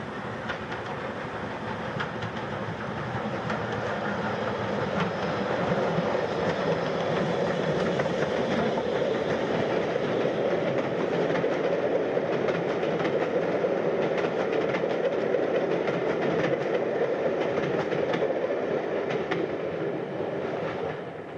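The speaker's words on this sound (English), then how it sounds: "Tanker train. Nice to see." A tanker train passes on a heritage railway, a steady loud rumble with rhythmic clickety-clack of wagon wheels over rail joints, sustained for about twenty seconds with no talk.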